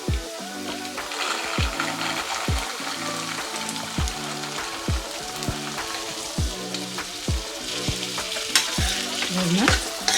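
Boiled chickpeas with fried onions stirred in a pan for kadale kalu usli, a steady scraping rhythm of spoon strokes repeating every second or so over a continuous sizzle of frying, close and fairly loud with no talking.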